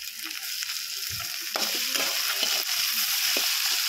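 Tomato dropped into hot frying oil for a Bengali fish curry, a steady loud hiss and crackle with a surge of sizzling after it goes in, close up with no talking.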